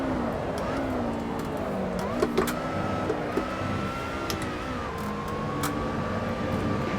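A Lotus race car driven flat out in Assetto Corsa, its engine whining steadily with tones rising and falling through the gears, held at a moderate level under a running commentary voice.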